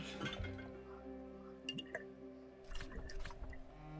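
Liquid is poured out in the video game Book of Hours, giving a few brief, soft splashy drips and squishy wet sounds over a quiet, humming background.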